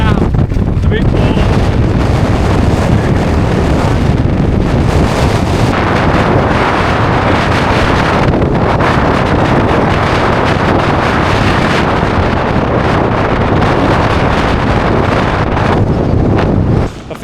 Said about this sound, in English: I'll turn the mic off for a second just so you can hear. I can hear the wind now.